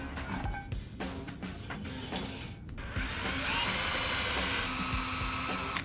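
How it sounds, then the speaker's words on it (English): A power drill whines and grinds into a metal machine base, stopping and starting in short bursts before a longer sustained high-pitched run. "I drill the holes and cut the threads into the base"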